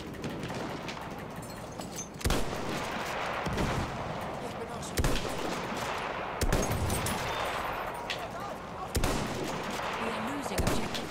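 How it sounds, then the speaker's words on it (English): Battlefield 1 Operations match with repeated bursts of rifle and machine-gun fire and occasional heavy booms, mixed with a player's voice talking over the battle noise. "I'm shooting these guys in the head"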